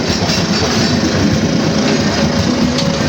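The Sri Tanjung passenger train, hauling a set of stainless steel executive-class carriages, rolls along the rails with a loud, close, continuous rumble and faint clickety-clack of wheels.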